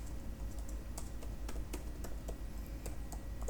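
Someone types quickly on a computer keyboard while coding, and the keys click in uneven bursts at close range against a quiet room.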